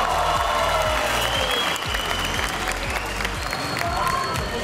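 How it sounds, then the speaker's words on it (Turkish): A concert audience at a show bursts into loud, continuous applause with scattered cheers, carried over a steady thumping beat from the stage. "Benim annem ve bütün anneler için büyük bir alkış alabilir miyim?"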